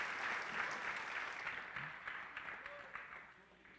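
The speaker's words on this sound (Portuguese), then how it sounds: "Vamos dar uma salva de palmas para ele" Congregation applause fills a church, a broad wash of clapping that starts strong and slowly fades over a few seconds, fairly distant and soft, with faint voices beneath.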